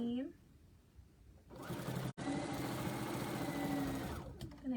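After a quiet moment, a sewing machine whirs in a steady, close run, back stitching a quarter-inch seam through layered fabric for a bowl cozy. It pauses very briefly midway before the motor stops near the end.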